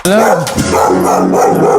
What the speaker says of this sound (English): Sorry to disturb the guard dog.